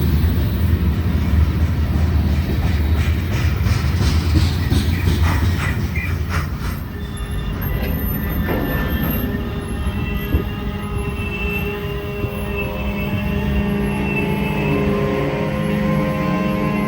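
A Union Pacific freight train rumbles past in the Sacramento River Canyon near Dunsmuir, with heavy low rolling noise, metallic squeals and clanks, and a steady mechanical drone throughout, no voices.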